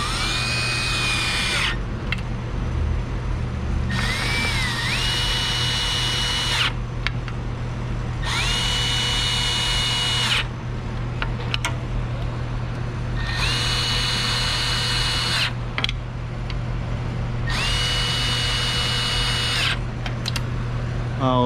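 Power drill snugging bolts on a 1998-2003 Volkswagen Passat 4motion transmission, running in five steady bursts of about two seconds each with short pauses between, loud and close over a constant low hum.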